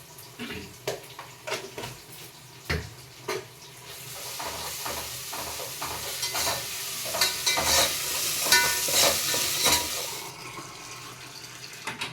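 Ginger garlic paste fries in a pan with a bright, hissing sizzle that swells in the middle and trails off. Clacks of a spoon scraping the pan break in near and at irregular intervals.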